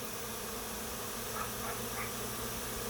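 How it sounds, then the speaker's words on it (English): Honeybee swarm buzzing in the open air around a hive in September, a steady dense drone from many insects throughout, fairly close and continuous with no talking. "this swarm comes up and over and starts landing here"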